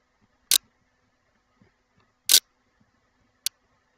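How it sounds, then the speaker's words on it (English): Three short synthetic camera shutter clicks from prototype firmware sound effects, played back with a long gap after the first and a shorter gap before the last, crisp and loud in otherwise near silence. "I'm playing the camera sound effects, so that's probably why they sound like a camera"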